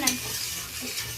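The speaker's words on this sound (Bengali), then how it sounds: "একই সাথে আরও দুবার ভালোভাবে নেড়ে কষিয়ে নেব" Crab pieces stir-fried with fried potato and eggplant in a pan, a steady close sizzle with soft scraping strokes of a spatula, no voices.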